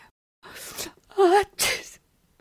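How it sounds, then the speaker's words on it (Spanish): Three sharp bursts of sneezing from a person with allergies, coming one after another with short pauses between them, loud and close, with no speech. "No paro de estornudar."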